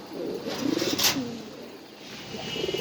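At a pigeon farm, pigeons coo in soft, rolling bursts close by, with faint background noise.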